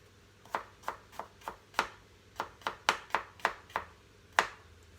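Red onion and garlic chopped into small pieces with a knife on a board for pad thai, a series of about fourteen crisp, fairly close knocks in an uneven rhythm, alone without talk.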